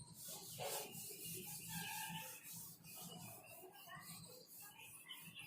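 Steady scrubbing rasp of a duster rubbing chalk numbers off a classroom board, continuous back-and-forth strokes close by, with no voice over it.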